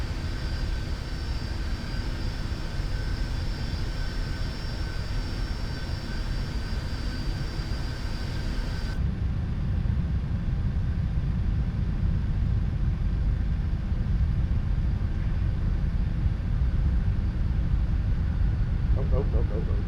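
A simulated Boeing 747-400 in Malaysia livery rolls for takeoff from Schiphol, its jet engines a loud, steady roar with a broad rumble, holding constant throughout with a change in tone midway.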